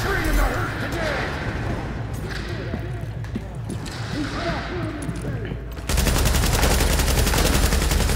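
Gunfire in The Division on PC, an event-center firefight: dense, continuous bursts of shots and impacts run throughout, growing louder and harsher near the end, with players' voices talking over the shooting.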